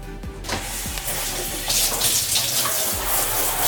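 Water gushes loud and steady from a shower in a cruise ship cabin bathroom aboard Icon of the Seas, with a brief muffled start before the full spray takes over and keeps going.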